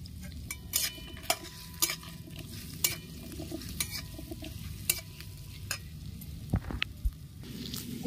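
Chopped ginger frying and being stirred in a pan, a soft continuous sizzle with regular sharp scrapes and clinks of the spoon against the pan, close and fairly quiet.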